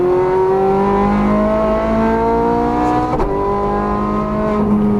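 A Ferrari F430 Scuderia engine pulling hard on a race track, a loud, close, rising howl that climbs steadily through the revs, dips sharply at a gear change partway through, then climbs again.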